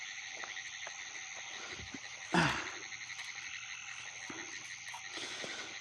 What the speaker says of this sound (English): You can hear them all over the place, but in my hand is a Pine Woods tree frog.